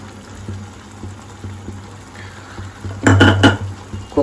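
Sesame, poppy seed, ginger and green chili paste drop into chicken cooking in a pan, giving a brief loud cluster of clattering, sizzling bursts after a quieter stretch of soft pan noise and faint tapping.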